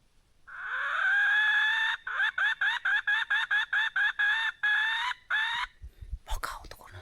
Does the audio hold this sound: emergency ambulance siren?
no